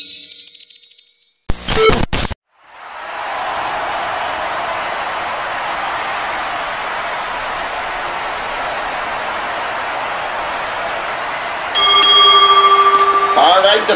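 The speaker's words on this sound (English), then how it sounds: "All right, the bell rings." A ring bell opens a tag team championship wrestling match, a few brief metallic strikes near the start over a loud, steady arena crowd roar that fills the rest, with more bright ringing tones near the end.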